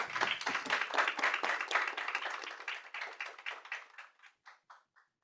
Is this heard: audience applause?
yes